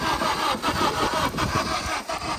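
A 2009 Honda Civic engine turning over while being cranked, a steady close mechanical churn that doesn't catch, no voices.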